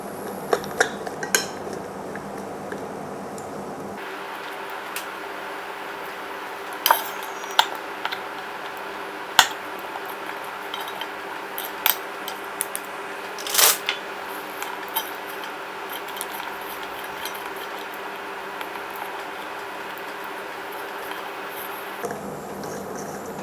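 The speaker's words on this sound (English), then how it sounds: "I'm just going to break the nuts, helping the crystallized sugar to melt faster." A utensil breaks up hazelnuts stuck in crystallized sugar in a pan, giving sparse scraping clinks and ticks, close by, over a steady background hiss with no talk.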